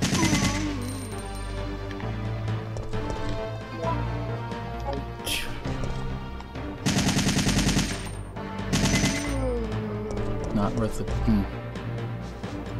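Assault rifle fire in the Resident Evil 3 video game, several loud sustained bursts of rapid automatic shots, with someone talking across most of the stretch.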